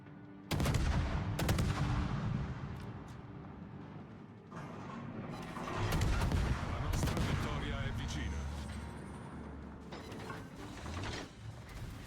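Warship guns fire during a World of Warships naval battle, several sharp booming salvos with mechanical clanks and rumbling echoes, mixed with game effects and someone talking over them.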